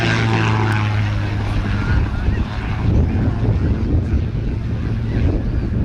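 Aerobatic propeller aircraft performing at the Midlands Air Festival, with a loud, steady engine drone mixed with heavy wind buffeting on the microphone throughout.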